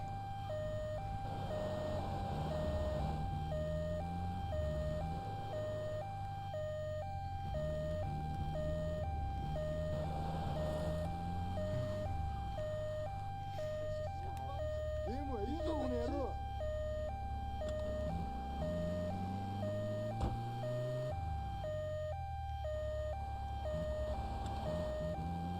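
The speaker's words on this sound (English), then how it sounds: "I was trying to turn off the damn siren." An ambulance siren in GTA 3 wails in a steady repeating two-tone pattern for the whole stretch, sounding over a low rumbling vehicle engine and other game sounds.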